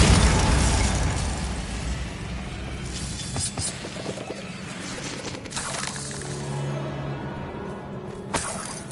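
A Bombarda spell in Hogwarts Legacy bursts with a loud shattering crash, debris crackling and rumbling as the blast fades, followed by smaller pops and impacts.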